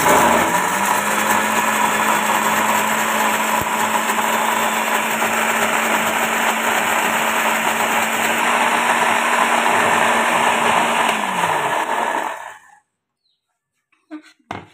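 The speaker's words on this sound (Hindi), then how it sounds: "चीनी को ऑयल के साथ अच्छे से ग्राइंड कर लेंगे।" An electric grinder runs continuously as it blends mustard oil with sugar, a loud steady high-pitched whine for about twelve seconds before it cuts off abruptly, leaving near silence with a few faint sounds.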